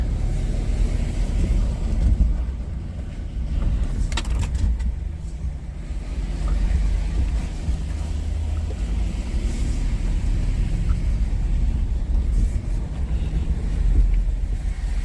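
A Jeep 392 rolling over a washboard dirt road in a Sonoran Desert wash in Arizona, a steady low rumble with rattling vibration and gusty wind buffeting the microphone, loud and continuous from inside the vehicle.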